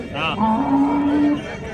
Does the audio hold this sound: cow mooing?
yes